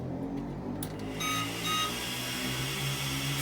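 A Tamiya TT01E RC car being switched on gives a few high electronic beeps: a short chirp, then steady tones over a constant hum.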